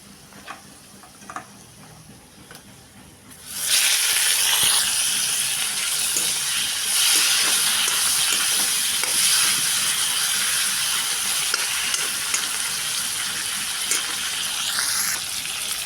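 Dried fish and red spice paste hit hot oil in a pan with a sudden loud hiss, then settle into a steady, close, crackling sizzle that carries on without a break. A few faint clicks come before it starts.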